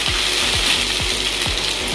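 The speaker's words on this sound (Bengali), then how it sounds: "রসুন এবং আদার গন্ধ যাতে না থাকে সেরকমভাবে ভেজে নেব" Ginger and garlic frying in hot oil for chilli paneer, a steady close sizzle with a regular rhythmic scraping or clicking roughly every quarter second throughout, no voices.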